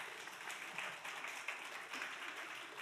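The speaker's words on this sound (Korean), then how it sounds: "박수로 환영할까요?" Steady applause from a church youth service congregation welcoming a Honduras mission team, a dense, even wash of many hands clapping at moderate distance with no talk over it.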